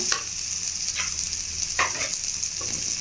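Finely chopped vegetables, beans and cauliflower among them, sauté in hot oil for veg cutlets, giving a steady close sizzle with a few sharp scrapes of a stirring spoon.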